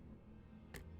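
Clock ticking in the video game Limbus Company, a faint quick tick over a low hum, with one sharp bright click near the end.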